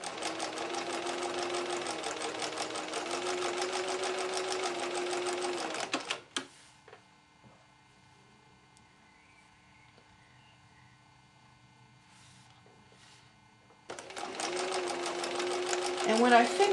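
A sewing machine stitches quilt segments together with a quarter-inch seam allowance, running steadily for about six seconds, pausing into near silence, then whirring again near the end.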